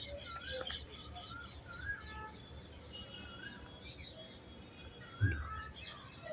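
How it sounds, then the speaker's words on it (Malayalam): Parrots living in the ruins of an old stone monument give sharp, repeated chirps and whistling calls from a short distance, over a steady outdoor background, with one louder thump near the end. "നിറയെ തത്തകളാണ്."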